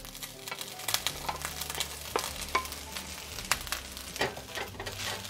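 Long grain white rice hitting a hot pan with garlic, giving a steady crackling sizzle with scattered sharper pops and stirring scrapes throughout, close and moderately loud with no talking.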